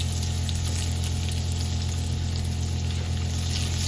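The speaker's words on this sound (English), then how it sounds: "let's saute this for a couple minutes till we can really smell it" Lime zest and thyme sautéing in a pan, a steady close sizzle with a constant low hum underneath, continuous and even throughout with no talking.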